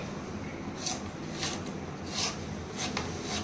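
Fresh coconut being grated by hand for a Malvani masala paste, heard as a steady run of raspy scraping strokes, about one every half second to second, moderately close and alone.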